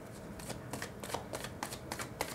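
Tarot cards are shuffled by hand at close range: a quick series of soft, crisp riffling bursts in a steady rhythm, fairly quiet.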